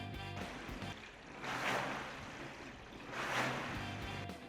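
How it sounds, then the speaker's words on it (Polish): Water swishes in two slow surges, each rising and falling like a stroke through the tank of a WaterRower Oak S4 rowing machine, faint and close. "W czasie treningu słyszymy jedynie szum wody."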